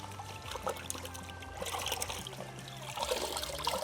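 Microfiber towels used for car washing are rinsed out in a bucket of water, producing a faint close trickle and light sloshing, while a voice talks quietly in the background.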